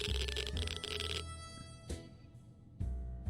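A telephone rings in the survival video game 60 Seconds! Reatomized, with bursts of bright electronic ringing that stop and restart in a broken rhythm, loud and close with no voices over it.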